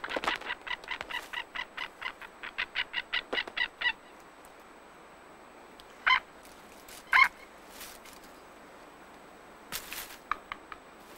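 Young birds in a Caspian nature reserve call in a quick series of sharp repeated squawks, then give scattered louder cries after a pause, with the calls standing alone against quiet background.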